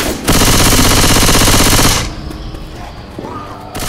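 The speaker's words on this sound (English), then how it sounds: "Machine gun." Rapid, very loud machine gun fire in the Left 4 Dead 2 video game rattles for under two seconds, then cuts off into quieter game ambience with faint clatter.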